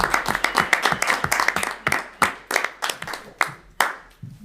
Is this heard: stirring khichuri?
no